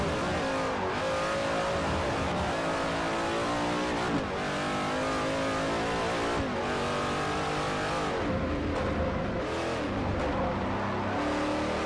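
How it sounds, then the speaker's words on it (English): A seven-liter Chevrolet LS7 V8 race car engine in Forza Motorsport 4 roars loudly and continuously, revving up and down through gear changes, with no talking. "Seven-liter LS7 V8."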